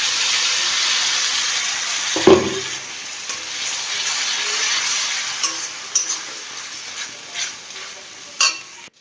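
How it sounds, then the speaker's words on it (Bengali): Onion frying in a pan with chili, ginger and garlic paste, a bright continuous sizzle with a sharp spatula knock near the start and a few more scrapes and taps later, no voices. "এবার পেঁয়াজটা মোটামুটি ভাজ এবার লঙ্কা আদা রসুন পোস্টটা দিয়ে দিই"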